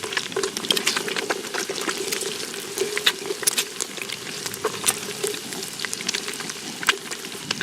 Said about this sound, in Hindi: डाल रहा हूँ मिर्ची प्याज अभी। ये जो फटा हुआ अंडा ऐसे डाल देते हैं अभी।